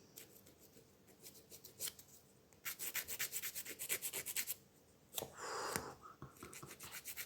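Gel nail strips being filed down with a nail file: rapid rhythmic rasping strokes in several bursts, close and fairly quiet, with short pauses between runs and no talking.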